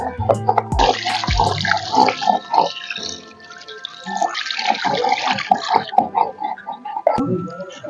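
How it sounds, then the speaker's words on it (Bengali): Chicken pieces for biryani are rinsed under a running kitchen tap, a steady splashing gush broken by irregular knocks and drips as the meat is turned, with no one speaking. "মাংসটা সুন্দর করে ধুয়ে নেব পরিষ্কার করে"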